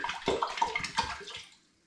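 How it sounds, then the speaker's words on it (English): Spring water pours from a bottle into apple puree for a home-brew hoppy cider, a close, splashing, gurgling stream lasting over a second before trailing off into quiet. "Now I'm going to add a final 2 litres in, so there's now 6 litres of spring water gone in with the apple puree."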